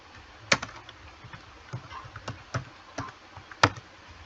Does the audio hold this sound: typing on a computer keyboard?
yes